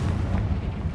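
A Confringo blasting curse going off in Hogwarts Legacy, a deep, rumbling explosion that fills the whole short moment with low, boomy energy and no talk.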